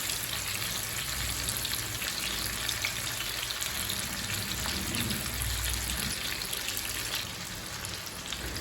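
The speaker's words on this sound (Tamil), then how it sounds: "ஒவ்வொரு மீனாக எடுத்து போட்டுக்கலாங்க" Fish frying in oil on a dosa pan, a dense, continuous sizzle and crackle that stays steady and close, easing slightly near the end, with no talking.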